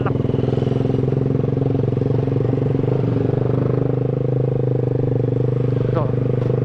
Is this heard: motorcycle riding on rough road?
yes